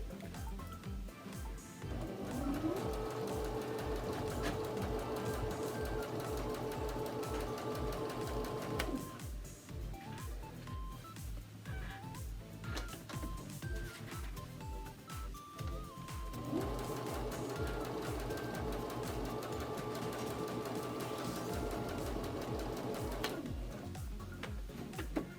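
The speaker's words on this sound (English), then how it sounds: "you can choose to chain stitch them, which is what I usually do, which means I just continue to sew all the way through" A sewing machine chain-stitching quilt block pieces hums with a rapid, steady stitching rhythm over two long runs, faint and continuous, with brief pauses between.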